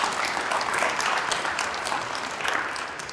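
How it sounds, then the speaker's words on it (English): An audience at an ocean science open house claps together in a steady, dense round of applause that thins slightly toward the end. "Another great big round of applause"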